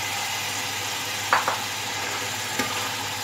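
Masala with tomatoes and green chillies fries in a pan for biryani, giving a steady sizzle and hiss with a few brief stirring clinks, close by and with no talking.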